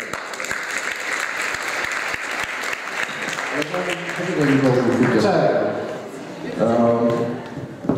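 An audience at a school graduates' show claps steadily throughout, fairly loud, while someone speaks over the applause in its second half.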